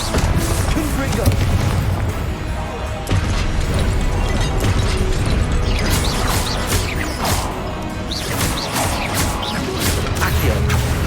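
Booming blasts and crashes from the Confringo explosion spell in the Hogwarts Legacy video game, loud and dense, layered with whooshes and game effects over a constant wash of noise.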